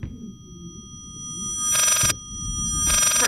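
A phone rings in the video game Layers of Fear VR, two bright electronic trill bursts about a second apart, set against a dim ambient drone and faint rumble.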